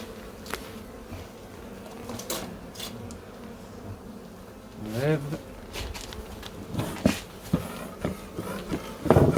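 A large honeybee swarm in a garden buzzes continuously at close range, a dense steady drone with individual bees whirring past, while someone speaks intermittently over it.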